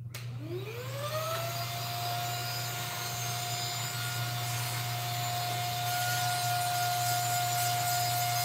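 A vacuum cleaner starts up with a rising whine and then runs steadily at close range, a loud continuous roar and motor drone with no voices.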